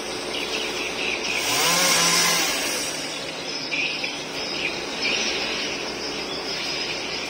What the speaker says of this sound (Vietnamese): Rồi anh cưa đó, đứt rồi đó các bạn